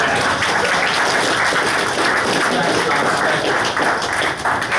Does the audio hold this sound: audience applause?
yes